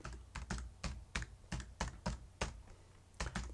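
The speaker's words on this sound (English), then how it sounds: "we could just type it in" Close, crisp keystrokes on a computer keyboard while typing into the Windows search field, arriving in quick irregular bursts of clicks with short pauses between them and no other sound.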